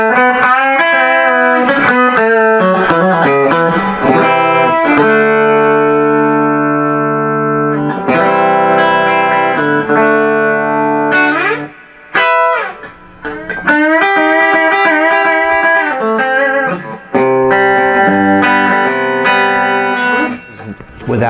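Distorted electric guitar on a Telecaster bridge pickup with reverb, playing chords and melodic runs, loud and sustained, with a brief drop in sound near the middle.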